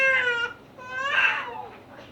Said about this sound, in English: you can hear my little sister crying in the background